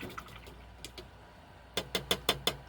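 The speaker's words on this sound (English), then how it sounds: "we clean off our brush in the dirty water. Then we go into the clean water" Paintbrush rinsed in a jar of dirty water while painting a miniature floating skull: a few faint swishes early, then five quick, clear taps and splashes in a steady rhythm, close by and alone.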